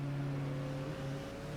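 A Koenigsegg One:1 in Forza Horizon 3 holds a steady, droning engine tone at full throttle, its pitch barely rising, loud and continuous with no other sounds over it.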